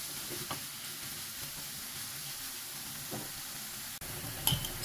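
Steady, soft sizzling of food frying in a pan, with a few faint clinks and stirring scrapes near the end.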